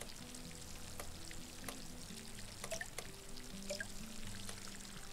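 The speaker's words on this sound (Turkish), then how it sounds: "Şöyle bol bol suyu verelim." Crops being watered in a farming video game, a quiet, continuous pouring and sizzling splash backed by soft melodic game tones and a few faint clicks.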